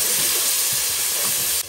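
Ginger garlic paste hitting a hot pan, a loud, dense, continuous sizzling hiss up close that cuts off abruptly at the end.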